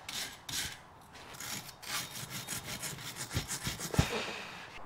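Rag or brush rubbing clean a handbrake shoe part on a car in a home garage, a series of short scrubbing strokes at close range, steady and moderately loud, with a couple of sharper knocks toward the end.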